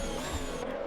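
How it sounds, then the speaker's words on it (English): Race cars in a racing video game at the Spanish Grand Prix roar with a loud, steady engine drone, the pitch shifting slightly before cutting off abruptly near the end. "We can hear the cars but not see them."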